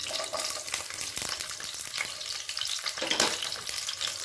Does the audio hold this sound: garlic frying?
yes